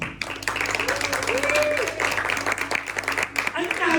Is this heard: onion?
no